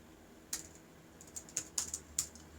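Typing on a computer keyboard: scattered crisp key clicks arrive in short bursts, close and fairly quiet in an otherwise hushed room.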